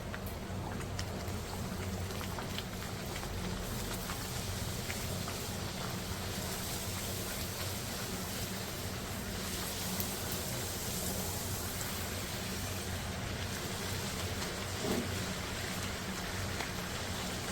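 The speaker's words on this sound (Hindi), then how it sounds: "तेज़ गरम ऑयल में आपने फ्राई कर लिया।" Potato and onion puris fry in very hot oil, giving a steady, dense sizzle that runs throughout at moderate volume with no talk.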